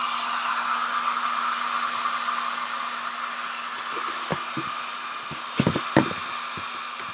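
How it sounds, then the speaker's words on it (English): A handheld blow dryer runs steadily at close range, drying chalk-paste work on a French country lampshade, with a constant airy whir and a few soft knocks and handling clunks toward the end. "I'm going to get the blow dryer."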